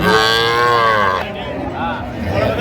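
Sahiwal cow and her calf, about one month old, lowing at a cattle market, with a long harmonic moo up close followed by a shorter, fainter call amid background crowd murmur.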